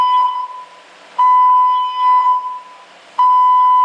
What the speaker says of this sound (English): The fire alarm on your rig is